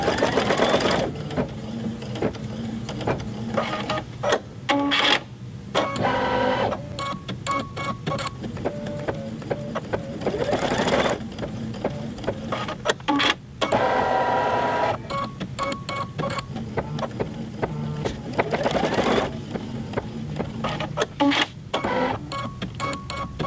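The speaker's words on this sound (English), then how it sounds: "The next step is a placement stitch. It's going to stitch 4 little lines to show me where to put my straps." An embroidery machine stitches four short placement lines onto a fabric face mask, giving a steady, close mechanical whir and needle clatter with a few brief pauses and no talking.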